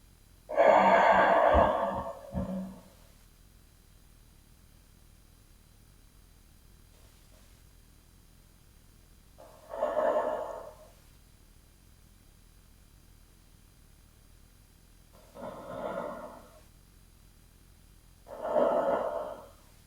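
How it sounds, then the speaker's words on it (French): Four slow, deep breaths during a yoga session, the first long and strong, the rest spaced several seconds apart, close and clear against near silence. "3 profondes respirations ici."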